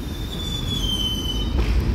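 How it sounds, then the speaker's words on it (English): A New York subway D train rolls through Bay 50th Street station with a steady loud rumble and a long high wheel squeal that fades near the end, heard close and without talk. "And I hear a D train."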